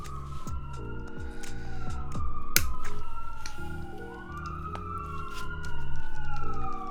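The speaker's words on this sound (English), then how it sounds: "Hear all these ambulances all the time. Yes, the sweet sound of sirens." Ambulance sirens wail and sweep up and down in pitch, overlapping one another amid loud city traffic noise near a hospital.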